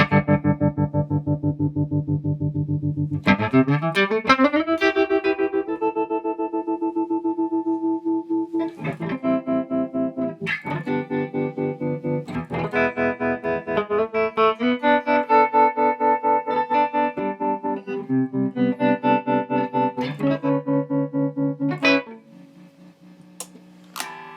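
Distorted electric guitar through a Supro 24 clone overdrive pedal rings out with gritty overdrive, a bent note sliding up then chords and single notes played, ending on a quieter sustained tone.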